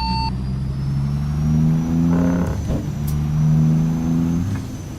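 Deep, steady drone of a 2024 Caterpillar C15 truck engine running close by in a convoy, swelling twice in gentle rises and dips with no talking over it.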